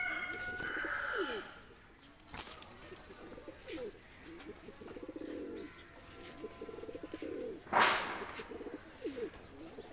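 Oman Teddy pigeons with cream-coloured eyes coo in repeated low, rolling phrases, near and steady, while other birds chirp faintly in the background and a sharp crack and a brief burst of noise break in.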